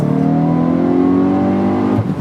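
A hot Hyundai i20 N engine revs loud and close, a throaty roar holding steady, then dropping off abruptly at the end.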